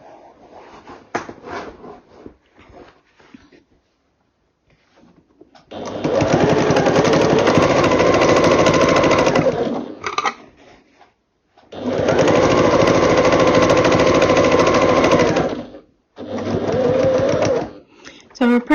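A sewing machine stitches binding onto a quilt in three loud, close bursts of rapid rattling, separated by pauses with a quieter voice and small handling sounds.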